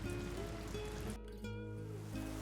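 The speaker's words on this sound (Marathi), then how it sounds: "पावसाचा जोर आता अजूनच वाढला होता" Heavy rain pours in a steady, dense hiss across the whole stretch, with a brief dip in intensity partway through before the downpour swells again.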